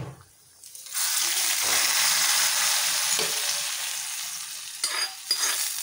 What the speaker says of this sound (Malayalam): കടുകുറുത്ത് ഒഴിച്ച് കൊടുക്കാം